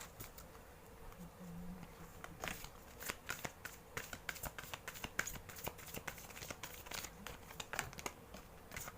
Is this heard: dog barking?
no